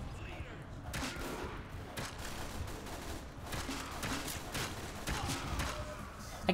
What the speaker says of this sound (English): Please don't tell me there's a sentry gun there.